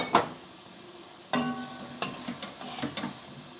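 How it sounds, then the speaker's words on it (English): Salted eggplant frying in a pan gives a soft, close sizzle, and a utensil knocks and scrapes in a few sharp strokes as it is stirred, with no voices. "Give it a quick stir"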